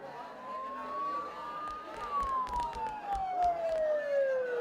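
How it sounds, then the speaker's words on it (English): Police sirens in the video game Persona 4 Golden wail steadily in a long falling tone under a noisy background with scattered clatter, sounding fairly close and continuous without any speech. "Don't those sirens sound really close?"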